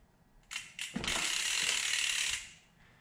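Close ratcheting clicks from an 8mm hex wrench loosening the crank bolt on a RaceFace Aeffect Cinch bicycle crankset, a couple of short bursts and then a steady buzzing run of rapid pawl clicks that fades out.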